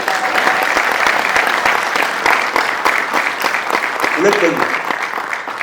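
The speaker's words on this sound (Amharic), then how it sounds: "አጨብጭቡላቸው።" Audience applause at an Ethiopian history talk, steady dense clapping that fills the whole stretch, with a voice speaking briefly over it near the end.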